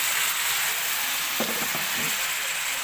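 Shrimp fry in butter in a pan, giving a steady, close hissing sizzle with a brief soft stirring scrape near the middle.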